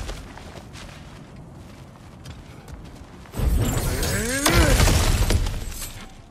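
Kratos smashes through cracked ground in God of War Ragnarok: quiet footsteps and ambience give way to a sudden loud crashing break, followed by sustained rumbling debris and a sweeping magical whoosh.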